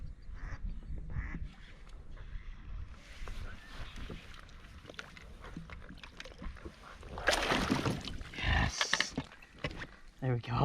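A duck quacks close to a small fishing boat on a lake during a largemouth bass outing in Southern California, its calls mixed with water and boat noise while someone talks over it.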